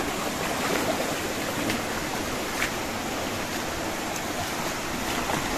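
A rocky river flows steadily nearby in a steady, broad rushing wash of water with no pauses, close and fairly loud, with no voices over it.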